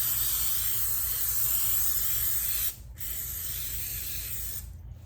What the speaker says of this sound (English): first thing we're gonna do is spray this pan and get it so we don't want it to stick